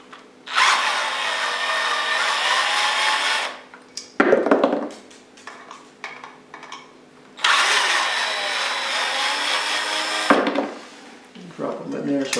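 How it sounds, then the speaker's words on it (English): A power drill removes screws from the canopy bracket of an old ceiling fan being replaced, running in two long steady whirring bursts with handling clicks and rattles between them. "the first thing we have to do is remove this bracket right here from the canopy right here, and we do that just by removing these screws"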